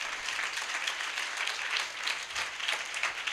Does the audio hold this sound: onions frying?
no